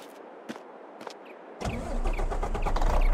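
In Farming Simulator 22, a few faint clicks, then a truck engine cranks and catches, settling into a steady, growing rumble that stays fairly close.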